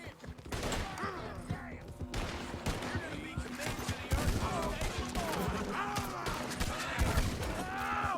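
Rapid gunfire in a Red Dead Redemption shootout around a Mahogany Bay Tennessee Walker horse, with repeated sharp cracks and bursts over a busy game mix with groaning voices.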